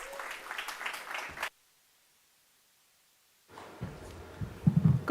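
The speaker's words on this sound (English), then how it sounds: "Round of applause for Esther." Audience clapping at a graduation ceremony, a short burst of applause that cuts to silence, then resumes with some louder thumps and handling noise, moderately distant.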